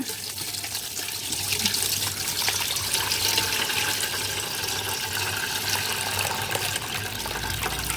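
Homemade red wine made from red guava, poured through a strainer to remove the pulp, giving a steady splashing liquid pour that runs continuously and fairly loud throughout.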